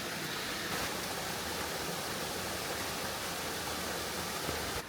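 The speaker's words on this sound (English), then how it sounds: "Here you can see the waterfall running through the village." Waterfall running through the village of Orbaneja del Castillo, giving a steady, dense rushing roar of falling water that stays even throughout with no voices.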